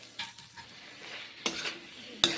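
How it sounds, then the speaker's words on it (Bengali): Garlic and onion fried until reddish in a pan while cooking a potol (pointed gourd) dish, with a soft sizzle broken by a few scraping stirs and utensil clanks, the last one sharp. "এইভাবে ভেজে নিতে হবে লাল লাল করে"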